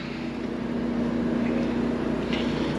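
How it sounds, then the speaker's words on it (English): Steady, even hum of a 4 kW generator running on a 2015 Forest River FR3 30DS gas Class A motorhome, heard close and fairly loud as a constant drone with no talking. "Generator runs great."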